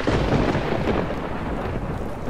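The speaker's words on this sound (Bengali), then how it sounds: "মাঝে মাঝেই আকাশ বিদীর্ণ করে চলেছে গুরুগম্ভীর মেঘের গর্জন" A deep rolling rumble of thunder, loud at first and slowly fading, with a wash of rain noise behind it.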